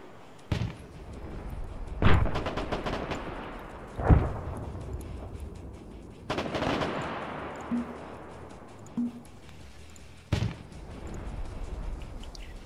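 War video game combat with scattered gunshots and heavy blasts, sharp isolated bangs at irregular intervals over a low rumbling background, some booming and distant, others closer.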